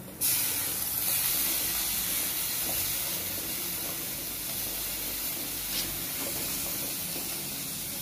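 Curry leaves and coriander hitting hot oil in a pan, an abrupt loud hiss that bursts in at the start and settles into a steady spitting sizzle.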